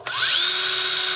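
A power drill bores through the sole of a cycling shoe, whining up quickly after a short click and holding a loud, close, steady buzz.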